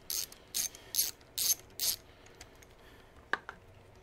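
A ratchet undoes the positive battery terminal on a 2016 Harley-Davidson Softail motorcycle, giving five quick, evenly spaced bursts of loud, close clicking, followed by a couple of faint metallic taps, with no talking.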